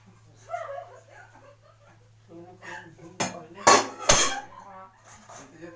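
A black wok is pulled out and set down among other kitchen pots, giving a few loud metallic clanks and knocks near the end, with low voices and a steady hum underneath.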